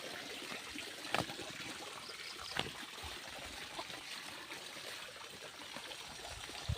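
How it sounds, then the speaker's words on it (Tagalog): Water from a main irrigation pump supplying a drip irrigation system rushes and splashes steadily nearby, a constant broad hiss with a couple of brief knocks, no voices. "napakalakas yung tubig"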